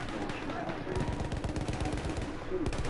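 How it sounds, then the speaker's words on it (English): Mortar shells and gunfire in the Battlefield 1 video game, rapid dense booms and crackling shots overlapping continuously, loud and close throughout a busy battlefield mix. "Blasting mortar shells over there."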